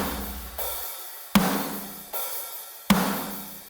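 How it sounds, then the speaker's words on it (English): Programmed metalcore drums for a pre-chorus pound out a steady pattern of hard hits, with crashes landing about every three-quarters of a second and no vocals. "So we got these drums programmed, and it's going to sound like this."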